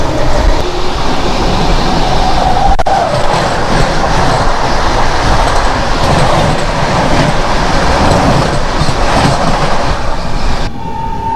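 The Samaleswari Express rolls into Rajgangpur station in Odisha, a loud, close, continuous rumble of wheels and carriages with rhythmic clatter and a brief squeal near the end.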